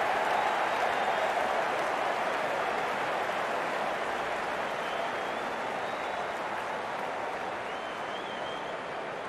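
Crowd applause at a women's softball playoff game, a steady broad wash of clapping and cheering held at an even level for the whole stretch, with faint talk beneath.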